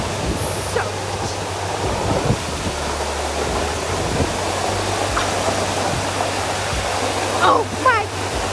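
Mashel Falls in Washington roars from directly beneath the cascade, a loud, steady wash of falling water that fills the whole clip, with brief splashes and faint movement close by.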